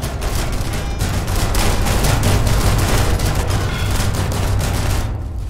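Rapid gunfire in the People Playground sandbox game: a dense, loud burst of repeated shots runs continuously for several seconds, then tails off at the end.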